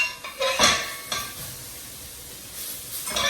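A spoon stirs a spiced mixture in a hot pan for Jamaican patties, with a few sharp scrapes and clinks against the metal over a soft, continuous sizzle, close by.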